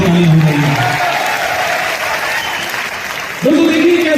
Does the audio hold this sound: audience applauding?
yes